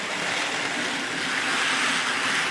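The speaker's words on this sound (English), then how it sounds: "three-pole motor clearly shows its heritage with its annoying growling and sort of rough running sound to it" A Model Power Blue Eagle model train's three-pole motor running, a steady rough growling whir that stays loud and unbroken throughout, heard alone without talk.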